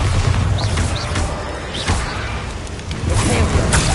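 Bombarda spell blasts in Hogwarts Legacy: loud, dense explosive booms and whooshing bursts filling the scene continuously, with brief swishing spell sounds on top.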